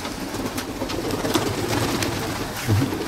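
Pigeons cooing steadily in a low, rumbling murmur at a pigeon club in Attica, Greece, with soft flutters and scattered clicks over a constant outdoor background.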